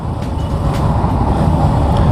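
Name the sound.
Honda Hornet 2.0 BS6 motorcycle engine running at 4000 rpm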